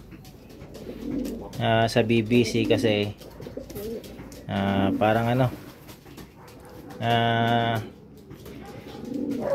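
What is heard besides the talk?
racing pigeon cooing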